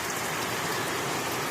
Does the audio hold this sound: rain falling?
yes